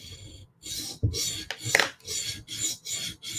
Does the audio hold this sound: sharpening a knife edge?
yes